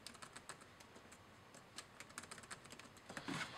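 Quiet, light keystrokes on a MacBook Air keyboard entering a name during setup, a loose run of soft, closely spaced clicks with a slightly busier flurry at the end.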